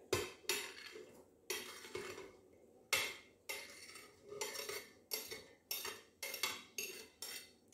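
Onion and garlic going into a cooking pot of beef for a tagine: a regular series of close metallic clinks and scrapes of a utensil against the pot, about one every half second, with quiet gaps and no talking.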